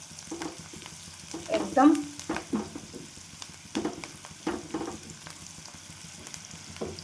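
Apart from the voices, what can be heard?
onion sautéing in oil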